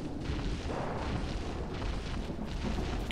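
Grenade explosions in a survival video game, heard as a rumbling, booming blast whose low roar sustains and rolls on for a few seconds at moderate loudness.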